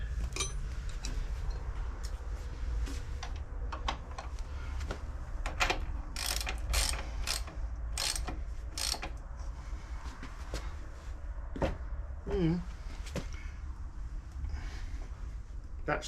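Ratchet tightening the swing arm chain adjuster on a Kawasaki Z1 900 motorcycle, a series of close metallic clicks and short bursts of ratcheting over a steady low workshop hum.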